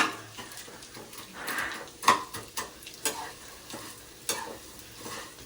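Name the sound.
oil heating and frying snacks in a pan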